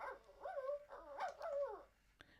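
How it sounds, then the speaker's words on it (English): A robotic companion therapy dog gives a soft, faint electronic yap that trails into a whining, warbling cry over about two seconds, ending with a small click. "he will give a little yap when the light sensor is triggered"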